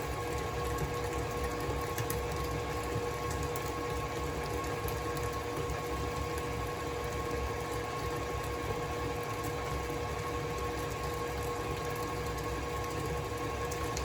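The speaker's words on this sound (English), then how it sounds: "Okay, do your dance, mixer. Take it up a notch. Now it's really starting to mix." Electric mixer whipping compound butter with strawberries, a steady continuous motor whir and rattle running loud and unbroken throughout with no talk.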